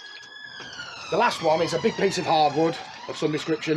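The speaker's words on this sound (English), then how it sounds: "Excuse the sirens." A wailing siren rises and falls in the distance while someone talks over it close by.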